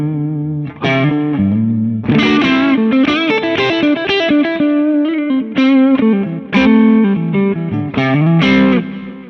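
Distorted electric guitar with humbucker pickups, a 1980s Charvel, playing chords and melodic lines through effects, thick and warm with chorus shimmer, loud and continuous with brief gaps between phrases.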